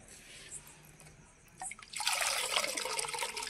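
Rice being rubbed and rinsed by hand in water, faint drips and small splashes at first, then a louder, continuous swishing of water and grains.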